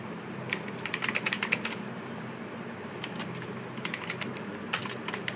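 Fingers type a tagline on a computer keyboard in uneven bursts of light, close clicks separated by short pauses, with no voices over the tapping.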